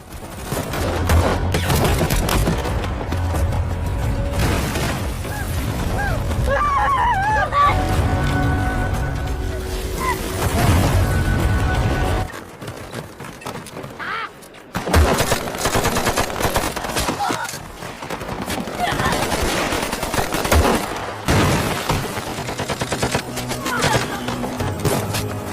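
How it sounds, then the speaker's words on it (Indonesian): Intense gunfire from a battle scene in the 2021 war film They Shall Not Pass, with dense machine-gun bursts, single shots and crashing impacts almost continuously, a brief lull midway, loud throughout. "Maka terjadilah lagi nih adu dor-doran yang sangat sengit antara kedua belah pihak"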